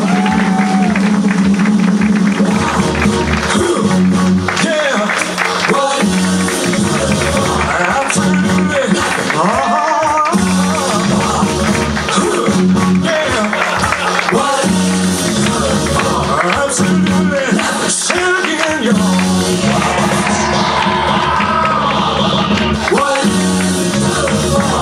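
A comedy show audience applauds and cheers for the Kill Tony band, a dense, loud wash of clapping and crowd noise that fills the whole stretch without letting up.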